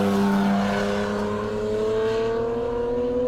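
A Lexus IS F drives on a race track, its engine and exhaust droning steadily with a smooth rising tone as it accelerates, loud and close without talk.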